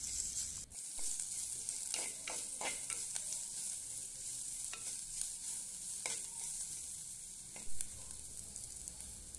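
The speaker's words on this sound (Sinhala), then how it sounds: "ඒ ටික විනාඩියක් විතර බැදෙන්න තියෙනවා" Onion and mango curry fries in a pan with a soft, steady sizzle, broken by intermittent scraping and clacking as it is stirred, heard up close without talk.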